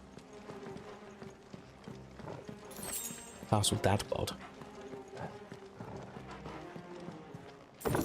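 Horse hooves clip-clop in the game Final Fantasy XVI, a steady rhythmic trot under a game soundtrack and a voice talking over it, with a louder burst of sound midway.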